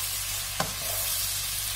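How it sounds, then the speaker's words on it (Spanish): Vegetables such as eggplant and zucchini sizzle steadily in a frying pan for a vegan green rice, with one brief stir or clack partway through and no talking. "Y lo dejamos que siga friendo."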